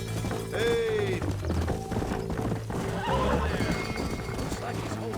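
Horse whinnies and neighs with clip-clopping hooves in the Western video game Red Dead Redemption, heard up close under a busy game soundtrack with voices talking.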